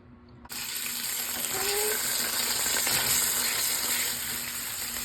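Garlic and shallots sizzle in a hot pan on a stovetop, a steady, close frying hiss that starts abruptly and holds evenly for several seconds with no voices.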